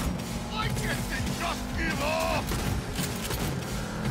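Gunfire in the video game Cyberpunk 2077 on a PS4 Slim, shots scattered through a busy mix with chaotic game noise, while a voice talks over the action.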